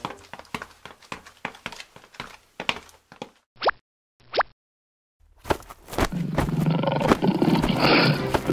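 A cartoon lion lets out a loud, sustained roar after a run of soft plops and two short rising whoops, the roar swelling and filling the last few seconds.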